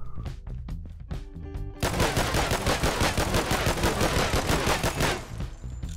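Rapid automatic gunfire from the video game Regain Earth: First Strike, fought against a mech boss, opens with a few separate shots and then becomes a loud, dense burst that runs without a break for several seconds before it cuts off.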